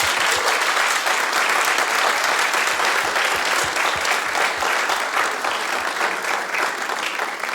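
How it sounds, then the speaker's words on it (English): A live audience at a Berkeley, California stage show breaks into loud, sustained applause, thick, continuous clapping that fades slightly toward the end. "let's give him a round of applause."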